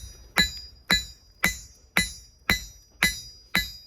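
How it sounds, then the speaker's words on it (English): A blacksmith's hammer strikes scrap round bar on an anvil seven times at a steady, even pace, each blow a bright ringing clink that decays quickly, close and clear with no talking. "I'm just going to set it down with an half blow."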